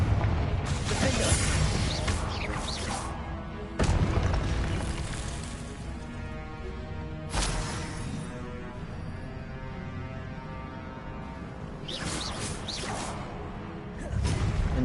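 Confringo fire spells blast in Hogwarts Legacy, several sharp explosive bursts spaced seconds apart, each fading into a rumbling wash of game ambience.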